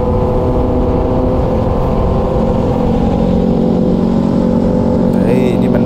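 A Yamaha MT-09 motorcycle accelerating hard in first gear during a traction control test, a loud steady engine roar that rises in pitch, with talk over it.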